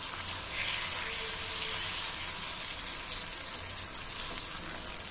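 Ash gourd (budi gummadikaya) dosa batter poured into oil on a hot pan produces a continuous bright sizzling hiss, close and even, with faint low kitchen rumble beneath and no speech.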